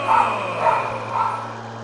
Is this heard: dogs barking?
yes